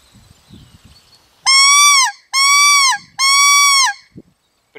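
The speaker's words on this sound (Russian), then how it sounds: "Сейчас я вам покажу, как звучит манок без низкого звука." Three loud, drawn-out calls blown on a white-fronted goose call without the low tone, each about half a second long and evenly spaced, clear and close. Faint handling noise comes before and after the calls.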